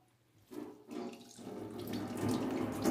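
Tap water runs over a beef heart in a sink, the flow splashing and gurgling steadily and growing louder as the washing goes on, close and without speech.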